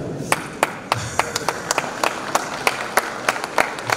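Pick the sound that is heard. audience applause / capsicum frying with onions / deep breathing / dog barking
audience applause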